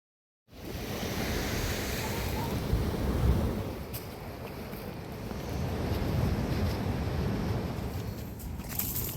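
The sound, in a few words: sea waves crashing in from both sides at the beach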